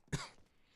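A single short cough from a Resident Evil 4 game character, loud and close with a rough throaty burst, then a faint fading tail.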